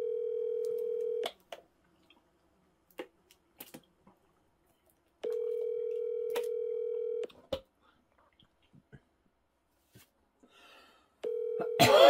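Outgoing phone call ringing unanswered, three long steady ringback tones separated by silent gaps with faint clicks, the last tone cut off by a burst of noise.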